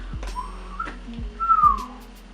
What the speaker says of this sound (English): I did try to whistle, but it didn't come out at all